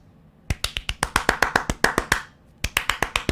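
Crisp tapping clicks imitate tap dancing, a quick rhythmic run of sharp taps, a short pause, then another burst, close and dry.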